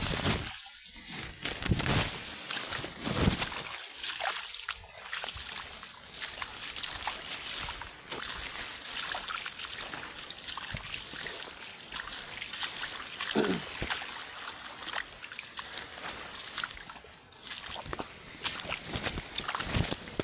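Water pours down from higher ground into a standing pool, a continuous trickling and splashing rush with light scuffing steps nearby and no talking.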